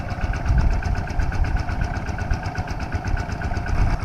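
Engine-driven water pump running steadily to drain a pond, a loud, continuous mid-pitched motor drone with even vibration throughout, close by and without any talking.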